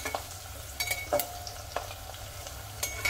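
Onions for pulao fry in a pan with salt, browning toward dark brown; a quiet sizzle runs underneath while a spoon stirs and scrapes in irregular knocks.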